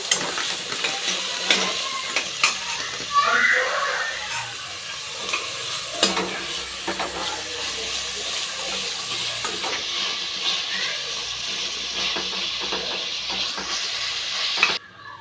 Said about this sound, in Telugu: ఫ్రై చేసుకోండి కొంచెం సాల్ట్ వేసుకోండి తొందరగా ఫ్రై అయిపోతుంది